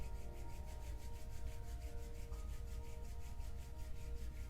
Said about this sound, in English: Rubbing your palms together to create some heat.